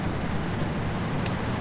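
Steady rain hisses in the truck-driving video game 18 Wheels of Steel Haulin, a continuous even wash of drops with no voices.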